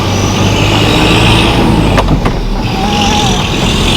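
A 2019 Fuso six-wheel dump truck with a 170 hp engine runs loudly under its exhaust brake, giving a rough, sustained low drone with a couple of sharp clunks midway and a brief whine near the end.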